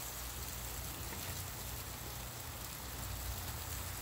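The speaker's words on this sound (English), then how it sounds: "No, it's only hail." Hail falling steadily outdoors, a dense continuous hiss of small impacts, faint and even throughout with no talking.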